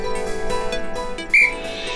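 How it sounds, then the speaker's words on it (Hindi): One short, sharp whistle sounds briefly over a low background hum, loud and close. "क्या सीटियां बजा रहे हो? किसको बुला रहे हो इस तरह सीटी बजा बजा के?"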